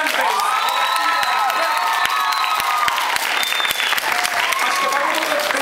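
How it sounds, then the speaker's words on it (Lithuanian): A studio audience bursts into warm, sustained applause with cheering and whoops, a dense, loud wash of clapping that continues throughout. "Tai mes palydėjom už šiltais aplodismentais."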